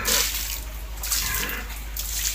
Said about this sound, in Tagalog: hinihigop nila yung tubig na may Zonrox at sabon